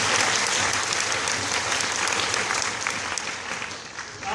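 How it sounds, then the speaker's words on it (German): Audience applause at a live stage show, dense and steady clapping from a sizable crowd lasting the whole stretch, easing slightly near the end. "geben Sie jetzt mal der Bettina einen deftigen Applaus"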